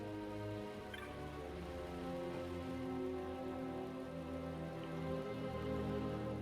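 Steady rain falling in the video game Final Fantasy XII, a continuous soft patter layered over sustained tonal background music, with no speech.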